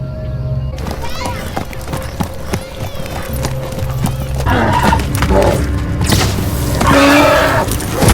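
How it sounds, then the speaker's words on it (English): Horse hooves clip-clop and a horse whinnies amid a crowded outdoor Dothraki camp scene in Game of Thrones, with voices talking underneath and music swelling; the neighing grows louder toward the end. "Bring me his horse."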